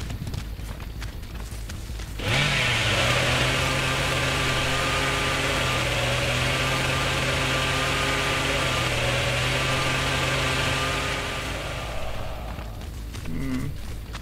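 A chainsaw runs in the Dead by Daylight horror game, a loud steady motorized drone that starts abruptly, holds at a constant pitch for about ten seconds, then cuts off.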